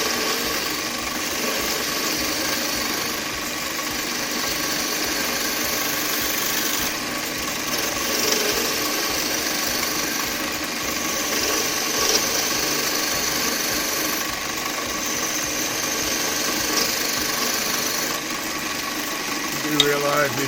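A spindle gouge cutting wood on a lathe, giving a continuous steady hiss and scraping whir under a running motor hum, with someone talking over it throughout.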